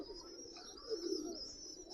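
A tula pigeon coos low and faint at a pigeon farm, the coo swelling near the middle, under a steady high hiss and light background noise.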